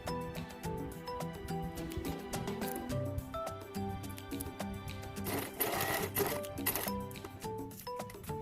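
A sewing machine runs in rapid bursts, stitching around the four sides of a fabric luggage tag. The needle patters rhythmically with short pauses between runs, close and clear, and no one speaks.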